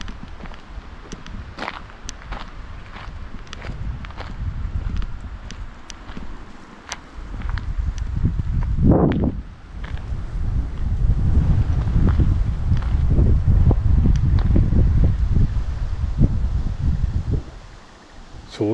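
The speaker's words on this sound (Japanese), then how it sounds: "風がなんか嫌な感じで吹いてるねっていう" Gusty wind blowing steadily across the open ground beside Kutsuzawa Lake in Japan, a broad rushing noise that swells and dips, with footsteps crunching close by and no one talking.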